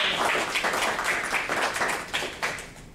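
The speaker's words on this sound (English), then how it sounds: "Let's have a round of applause" A workshop audience applauds at a speaking club meeting, a loud burst of mixed clapping that rises, wavers and then gradually thins toward the end.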